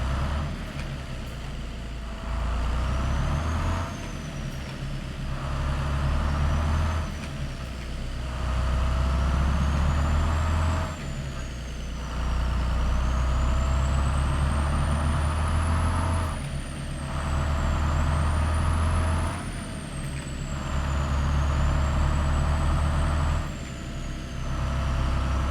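A Volvo VNL truck in American Truck Simulator drives through Colorado with a steady low engine drone, interrupted by repeated brief dips like gear shifts, with faint whistling tones rising and falling above it.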